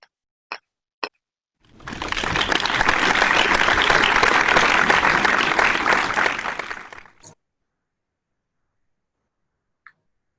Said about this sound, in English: help me welcome our International Speech Contest Chair, Toastmaster Kirsty Walker, with a round of applause.